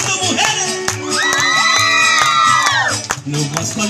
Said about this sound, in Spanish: Un grito, mujeres.